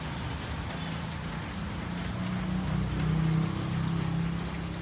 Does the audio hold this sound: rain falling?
yes